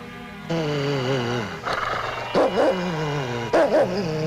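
A dog growls low and rumbling in several drawn-out bursts, close by, with rising and falling pitch and short pauses between.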